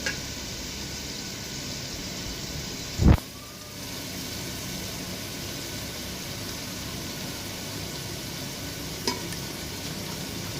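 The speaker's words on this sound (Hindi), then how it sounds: "ये वाइट होने तक हम फ्राई कर लेंगे" Chicken pieces frying in butter in a pan for a butter chicken karahi, a steady broadband sizzle running throughout with one sharp clatter near the start and a faint tap later; no one speaks.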